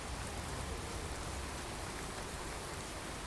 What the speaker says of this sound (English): I want to get out of this rain and go and have a little nap.